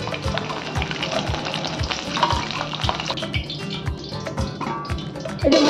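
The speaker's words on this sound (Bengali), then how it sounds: "আলুগুলো ভাজা হয়ে গেলে আলুগুলো তুলে নেব।" Potato pieces fry in hot oil with a dense, steady sizzle, punctuated by regular scraping and stirring knocks close by, with no talk.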